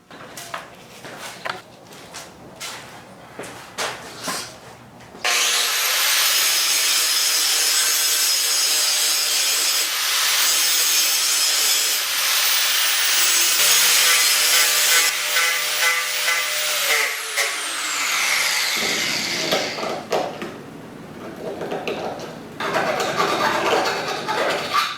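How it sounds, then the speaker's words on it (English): A power grinder grinds down a motorcycle handlebar end on a Honda CT70 so a grip will slide on, a loud steady hissing whine lasting about thirteen seconds, with quieter workshop handling noises before and after. "So I've got to grind this down so this grip can now make it past this right here"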